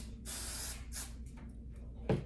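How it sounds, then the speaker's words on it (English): Hairspray sprays from an aerosol can in two close bursts, a long hiss and then a shorter one, followed after a pause by a brief soft bump. "And this hairspray is no joke."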